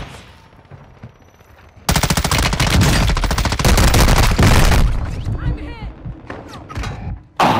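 Call of Duty zombies gunfire erupts in a loud, sustained rapid burst lasting a few seconds, with booming blasts from claymores and a shotgun, then trails off into scattered shots and a voice.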